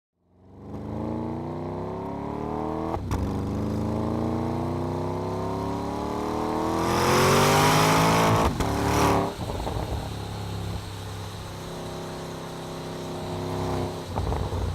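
A 2014 Porsche Panamera Turbo driving on roads in Oregon, its engine drone steady and close with rising and falling pitch, then a louder surge of acceleration before settling back to cruising.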